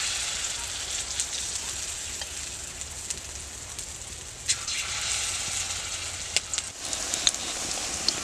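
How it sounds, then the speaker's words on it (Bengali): Egg and eggplant batter fritters frying in hot oil in a wok, a continuous soft crackling sizzle with occasional sharper pops, with no talking. "এই ব্যাটারটা আমার বড়ার আকারে ভেজে নিতে হবে।"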